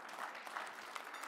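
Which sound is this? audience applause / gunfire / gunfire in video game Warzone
audience applause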